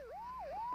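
A police siren wails in a Filipino comedy film, a brief rising and falling electronic tone growing gradually louder as it nears.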